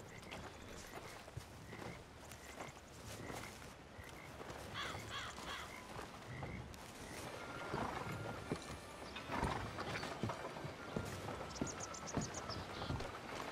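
In the Red Dead Redemption 2 video game, horse hooves clip-clop faintly among crows cawing and scattered clattering, a quiet outdoor scene.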